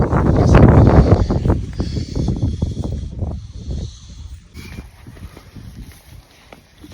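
Wind buffets the microphone in loud, rumbling gusts outdoors during heavy snowfall in the UK, strongest at first and then easing into softer, intermittent bursts.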